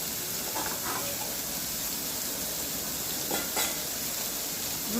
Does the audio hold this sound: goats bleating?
no